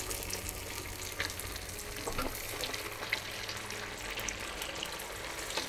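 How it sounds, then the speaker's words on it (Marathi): Sabudana vada, sago pearl fritters, deep frying two at a time in hot oil over a low gas flame, giving a steady close crackling sizzle with a few small pops. "आपले नॉर्मल साबुदाणे वडे आहेत ते मी 2-2 करून तळून बघते"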